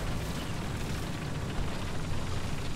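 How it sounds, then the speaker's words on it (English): A 75mm low-velocity tank gun firing in War Thunder, heard as a dense, loud rumbling blast that fills the whole moment with broad noise and no distinct separate shots. "75mm low-velocity weapon that has very little penetration and a tendency to lob its shots on target"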